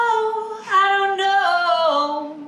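A vocal loop sample from Arcade played back in Machine, a sustained sung phrase with gliding pitch and bright harmonics, heard alone and up close for a couple of seconds.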